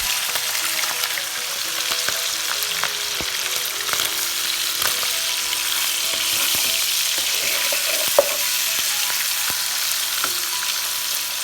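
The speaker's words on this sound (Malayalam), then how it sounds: "പാനിൽ ആവശ്യത്തിന് ഓയിൽ ചൂടാക്കിയത് ബേക്കൺ ഫ്രൈ ചെയ്തെടുക്കുകയാണ്." Bacon frying in hot oil in a pan gives a constant close, hissing sizzle with scattered pops and crackles and an occasional faint utensil tap, with no talk.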